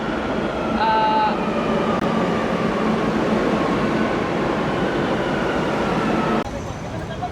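Metro train in the Santo Domingo subway, a steady rumbling roar of the carriage with faint squeals, continuous and fairly loud throughout, with voices murmuring underneath.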